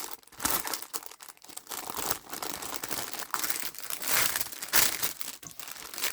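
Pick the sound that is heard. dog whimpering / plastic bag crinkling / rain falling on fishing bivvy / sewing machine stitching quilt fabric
plastic bag crinkling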